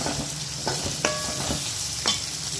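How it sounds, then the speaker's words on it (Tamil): Tomatoes and onions sauté in a hot pan for paneer bhurji, giving a continuous sizzle broken by three or four sharp spatula scrapes and taps, close and fairly loud. "தக்காளி நல்லா வதங்கணும், வதங்கட்டும்"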